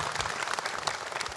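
An audience at a live Jakarta community event applauds for a fire-and-rescue officer, a brief dense wash of clapping from many hands heard fairly close, with no talk on top.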